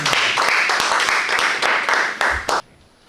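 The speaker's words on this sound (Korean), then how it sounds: "박수로 모시겠습니다." Audience clapping welcoming a presenter at a middle-aged entrepreneurship consulting briefing, a short burst of loud, fairly sparse claps with a few sharp standouts, ending abruptly into quiet.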